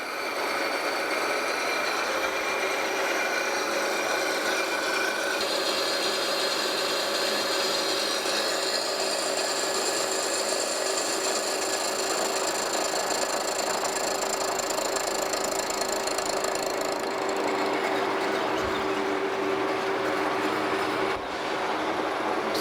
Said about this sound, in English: That's hogging some metal off.